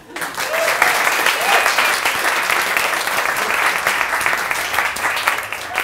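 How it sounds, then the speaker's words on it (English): Audience applause for dancers at a live comedy stage show, a dense, steady roar of clapping that holds for several seconds, close and loud throughout, with faint voices mixed into the crowd. "Please give my dancers a round of applause."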